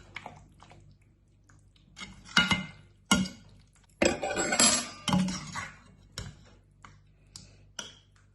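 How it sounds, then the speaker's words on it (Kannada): A spoon clinks and scrapes against a bowl while chili flakes and oregano are mixed in. Irregular sharp taps and short scraping strokes sound close by, with quiet gaps between them and no talking. "ಮಿಕ್ಸ್ ಮಾಡ್ತೀನಿ."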